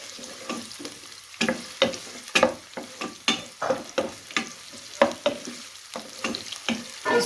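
Chopped onions frying in mustard oil for a turnip (shalgam) curry, with a steady sizzle broken by repeated scraping stir strokes from a spatula in the pan, close and moderately loud.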